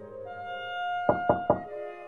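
Three sharp knocks on a door in a children's cartoon, evenly spaced and close, sounding over a soft sustained musical background.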